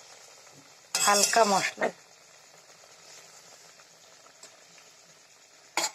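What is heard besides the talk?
rohu fish curry broth sizzling after pouring into hot tempering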